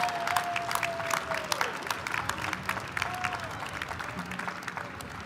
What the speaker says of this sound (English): extend a round of applause to those whose support and assistance have been so important to your college experience